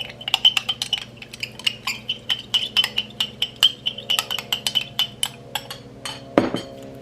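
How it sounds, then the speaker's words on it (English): A spoon clinks repeatedly against the inside of a glass while stirring a drink, a fast, steady run of bright ringing taps up close, ending in a louder knock. "Then I'm just gonna stir this thing up."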